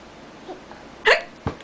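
A person making faked hiccups: two faint little catches, then two sharp, abrupt hiccups close to the microphone, with no talk.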